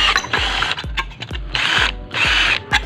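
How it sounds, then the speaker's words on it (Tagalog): A power drill bores out rivet heads on metal ceiling furring, whining in three bursts with sharp metallic clicks and knocks between them, close and loud with no voices. "Tatanggalin rin natin yung rivet na yan gamit yung barena."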